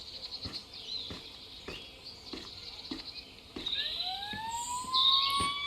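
Siren of an approaching ambulance in the police game Police Simulator: Patrol Officers, rising wails that grow louder toward the end, heard over a steady pulsing background with no talk.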